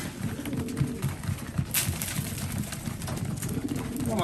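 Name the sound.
racing pigeons cooing in loft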